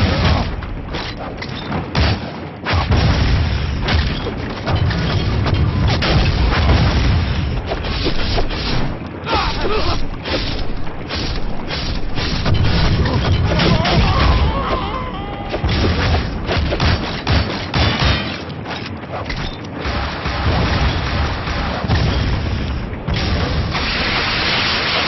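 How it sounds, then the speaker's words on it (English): Missile explosions in the video game Shank come as a dense, loud barrage of booms and thuds that keeps going for the whole stretch, with gunfire mixed in throughout. "Too many missiles."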